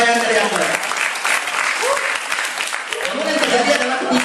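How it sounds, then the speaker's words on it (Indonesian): Dense applause from an audience at a student organisation candidate hearing, steady and loud throughout, with voices talking over it. "Bisa tepuk tangan tuh, pencapaian dari Akbar."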